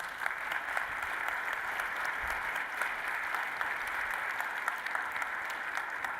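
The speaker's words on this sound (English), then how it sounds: "a round of applause for this panel." A conference audience claps for a panel at an NCAA session, steady, moderately loud applause with a slightly distant, roomy quality that continues evenly throughout.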